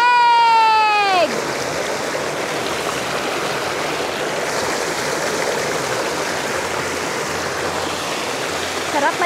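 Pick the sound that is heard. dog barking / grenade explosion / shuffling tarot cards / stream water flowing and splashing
stream water flowing and splashing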